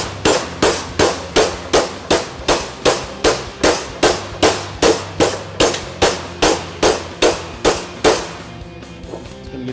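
Hammer forming a sheet metal header panel for a repair, about eighteen evenly spaced, ringing metallic blows struck in a steady rhythm, loud and close, followed by a brief quiet tail.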